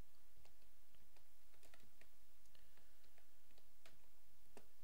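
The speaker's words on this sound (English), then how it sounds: "we're going to type in the group that I want her to be a part of" Someone types a command on a computer keyboard: quiet, irregular clicks of single keystrokes come close up over a faint background hiss.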